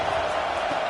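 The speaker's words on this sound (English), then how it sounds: "Here comes this home crowd as the defense tries to get off the field on third down." Home crowd at a Florida Gators football game roars steadily as the defense tries to get off the field on third down, a dense continuous wash of noise filling the moment.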